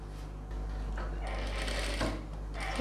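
A sewing machine stitches silk pavadai fabric with lining, running as a close, steady mechanical whir with a rapid needle chatter that shifts slightly in pace over a few seconds.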